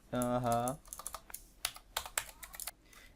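A computer keyboard types a git command: a quick run of sharp, close keystroke clicks in uneven bursts, preceded by a brief humming voice-like tone at the very start.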